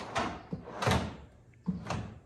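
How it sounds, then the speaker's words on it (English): A tight wooden cabinet drawer in a box truck build is pulled and pushed, giving three scraping, rubbing slides with soft knocks, close and moderately loud, with no talking. "This drawer's a little tight."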